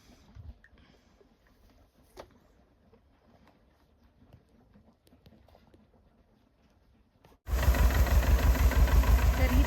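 Quiet rustling outdoors in a field, then a loud tractor engine suddenly starts thumping in a steady rhythmic chug, close and dominant.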